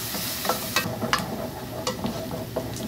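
Onions sautéing in a little oil with butter added, a steady close sizzle with scattered sharp crackles and soft stirring scrapes throughout.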